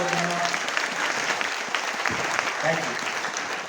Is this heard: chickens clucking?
no